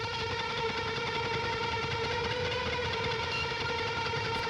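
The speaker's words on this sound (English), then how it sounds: "The Strat is now playing this like dissonant line on top" Dense, distorted heavy shoegaze mix with a Stratocaster playing a dissonant line over a quad-tracked guitar breakdown, steady and loud throughout with a thick wall of sustained tones and no pauses.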